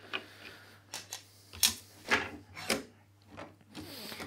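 Hand saw working through wood while cutting lantern joinery, the piece set against a back fence; several short separate rasping strokes spread through, moderately loud and close, with no talk.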